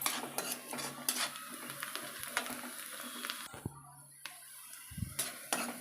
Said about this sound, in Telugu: ఆనియన్స్ వేగిన ఒకసారి కలుపుకుందామా